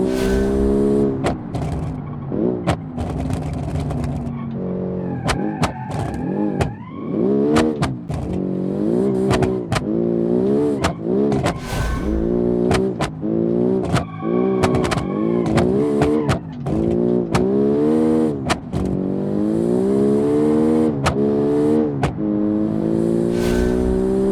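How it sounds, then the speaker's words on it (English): A turbocharged race car accelerates hard through second and third gear, its engine howling in rising sweeps as it shifts repeatedly, with wheelspin and sharp clicks and thumps throughout. "The turbo lag is so noticeable from the second and third gear. It just spins out the wheels when the turbo kicks in."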